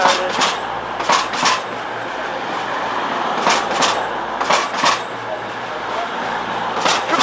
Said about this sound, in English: Now departing off of 1B, 1203 from here to Cleethorpes.